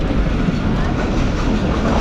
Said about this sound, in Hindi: ट्रेन हमारी हैदराबाद की गली मोहल्लों से गुजर रही है